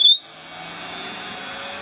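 A small wood lathe spins up with a brief rising whine, then settles into a steady, loud, even motor hum and high whirring tone that runs without a break.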